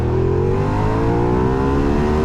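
A Ducati Diavel motorcycle pulls hard on an open road, its engine note climbing steadily in pitch as it accelerates, loud and close throughout with a continuous rising roar.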